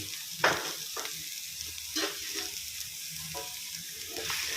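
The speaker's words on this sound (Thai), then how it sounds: "ใส่หมูลงไปคั่วกับพริกเลยนะครับ" Minced pork stir-fries with dried chilies over high heat for a spicy basil stir-fry with squid. Close sizzling is broken by repeated sharp spatula scrapes and clacks, about one each second, with no speech.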